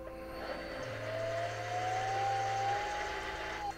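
A Toyota Prius motor in a DIY electric conversion spins up under the throttle pedal, a thin whine climbing steadily in pitch over a low hum, held for a few seconds before easing off.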